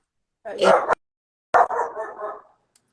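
A pet dog barks indoors at home, with two loud, close bursts separated by a short pause.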